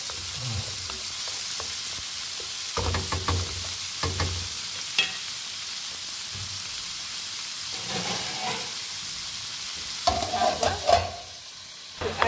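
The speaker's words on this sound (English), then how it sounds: "Then we add our tomato. We leave them to cook" Tomatoes cooking in a pan for a chips masala with sausage, giving a steady broad sizzle with intermittent stirring scrapes and clatters, moderately close, no talking.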